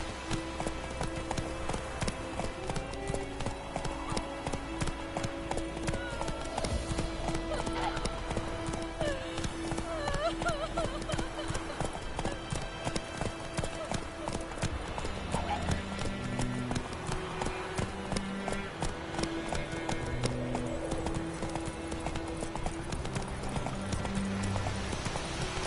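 Horse hooves clip-clop steadily as a rider urges the horse on in The Witcher game, a rhythmic trot continuing throughout under background music, with brief voices now and then.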